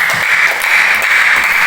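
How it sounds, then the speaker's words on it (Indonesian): Dense, steady applause from a group of students in a classroom fills the whole moment, loud and close. "tepuk tangan untuk kelompok"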